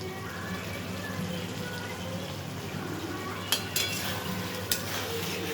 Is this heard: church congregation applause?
no